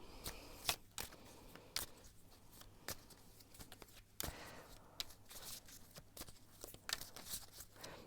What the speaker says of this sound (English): I'm going to shuffle some of these Gypsy Oracle cards